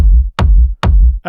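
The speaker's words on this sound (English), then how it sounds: "we're gonna start with the kick drum, which sounds like this" Techno kick drum sample: three loud, punchy kicks with sharp attacks and deep booming tails at an even pace, alone, with a short voice starting at the very end.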